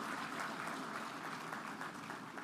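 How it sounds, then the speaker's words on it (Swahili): Crowd applause at an official public event in Dar es Salaam held in honour of the President, a dense, sustained clapping from a large audience heard at moderate distance without any voices. "Naomba wote kwa pamoja tumpigie makofi Mheshimiwa Rais kwa kukubali wito huo."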